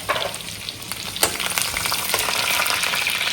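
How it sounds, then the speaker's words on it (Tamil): Mustard seeds, garlic and dried chillies fry in hot oil in a clay pot, giving a steady close sizzle with crackling pops and a few stirring scrapes, no voices. "எண்ணெய் போட்டு கடுகு போட்டுக்கிறேன், பூண்டு போட்டுக்கிறேன்."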